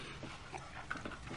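A dog pants and whimpers softly at close range, with faint breathy bursts and thin whines over a steady background hiss.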